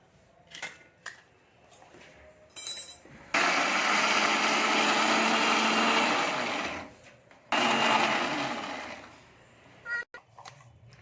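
An electric mixer grinder blending garlic, ginger and leaves runs in two loud whirring bursts of about three and a half and two and a half seconds, with clicks and handling noises before and after.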